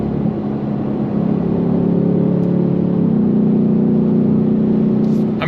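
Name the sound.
2025 Ford Mustang GT V8 accelerating on throttle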